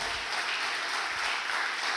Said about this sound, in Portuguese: Vamos aplaudir Jesus com alegria, porque Ele é bom.